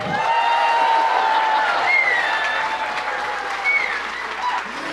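An audience at a church debate between clergy votes for the winner by applauding, with sustained clapping mixed with high whistles and a few cheers, loud and continuous throughout.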